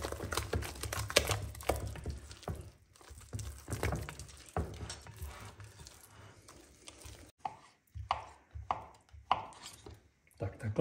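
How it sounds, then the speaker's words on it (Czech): Bacon is chopped into small cubes with a knife on a cutting board, a close series of quick, irregular knocks and taps that thin out into sparser strikes toward the end. "Tak takhle jsem si ještě nakrájel slaninu na kostičky."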